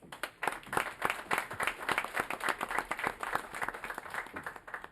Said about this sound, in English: the people we should be clapping for are the residents who are here tonight